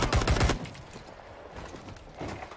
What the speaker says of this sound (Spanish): Le di el primer disparo, güey.